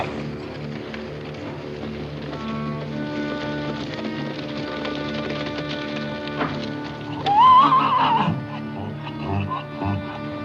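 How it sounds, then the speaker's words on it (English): A horse whinnies loudly near the middle, with hoof clatter and a busy background of steady tones and movement. "get the horses into the corral"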